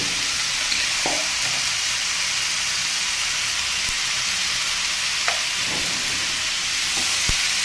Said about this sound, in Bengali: এবার এটা ভালো করে নেড়ে চেড়ে মিশিয়ে নেব